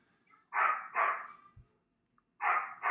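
A dog barks three times nearby, two quick barks close together then a third after a short pause, loud against a quiet indoor background.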